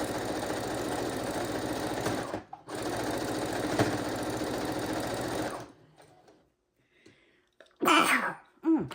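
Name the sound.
sneeze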